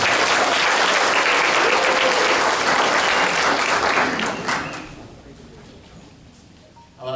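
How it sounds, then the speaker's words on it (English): Audience at a Vietfest 2019 press conference applauds in a dense, loud burst of clapping that fades out over the last couple of seconds. "Please give him a round of applause."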